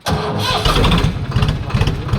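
A Swaraj tractor engine cranks over and catches, settling into a close, low, rhythmic chugging idle.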